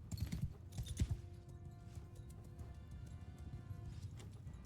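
Galloping cavalry horses in the Mount and Blade 2 Bannerlord video game make a dense drumming of hooves, loudest at the start then settling into a steady rolling patter, with no talk.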